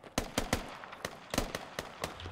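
Rifle fire from Squad pops in a string of about nine sharp shots at uneven intervals, fairly faint and mid-distance, each with a short echoing tail.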